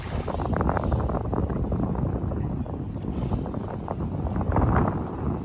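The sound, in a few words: wind blowing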